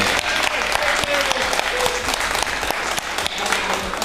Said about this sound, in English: Yes, round of applause for David Jin.